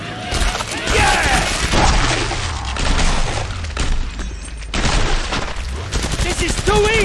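Rapid gunfire bursts and booming shots from the video game Killing Floor 2, on Hell on Earth difficulty, crackle loudly in dense volleys while a voice shouts over the shooting.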